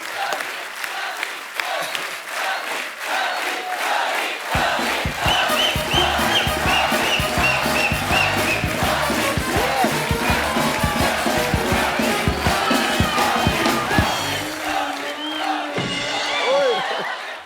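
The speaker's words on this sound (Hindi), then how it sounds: "एक बार जोरदार तालियां।" Studio audience of a comedy talk show cheering and applauding loudly, sustained dense clapping and shouts over music, with people talking near the end.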